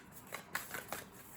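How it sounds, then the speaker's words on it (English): Tarot cards are riffled and shuffled by hand in a short burst of soft papery flicks, several quick slaps close up and fairly quiet, with no talking. "I'm giving this a good shuffle for you."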